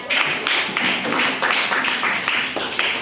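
A classroom audience applauding, with steady, dense clapping at close range that carries on for about three seconds.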